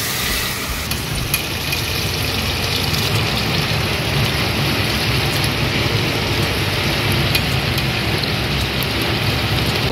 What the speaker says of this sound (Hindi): ये झमाझम बारिश देखो कितनी ज़ोर से आवाज़ आ रही है